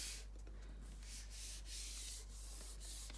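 Paper for a no-sew accordion journal is folded over by hand, making quiet, soft rubbing and creasing strokes that repeat in a loose rhythm up close.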